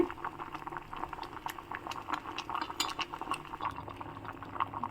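A pot boils steadily with lentils and vegetables, dense bubbling and popping with small clinks, continuous and fairly close, no voices.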